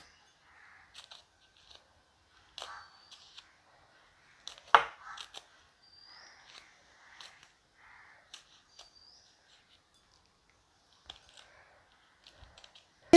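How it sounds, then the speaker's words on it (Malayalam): Green chillies being chopped with a knife on a board: sparse, irregular sharp taps in small bursts separated by pauses, close and fairly quiet, no talking. "ഇനി നമുക്ക് ഒരു മൂന്ന് പച്ചമുളകുണ്ട് അതൊന്ന് അരിഞ്ഞു കൊടുക്കാം"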